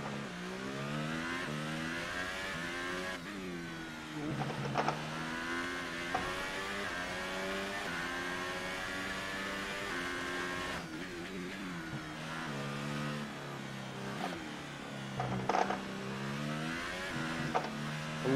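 A McLaren Formula 1 car's engine in the video game F1 2018 at the Singapore Grand Prix, screaming high revs that rise and fall with repeated gear shifts over a sustained lap, with no talk.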